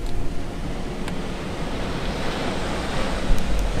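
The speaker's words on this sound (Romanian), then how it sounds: "Se aud valurile." Sea waves break on a shore at night near a parking area by the sea, a loud continuous roaring wash of surf with wind rumble and no talking.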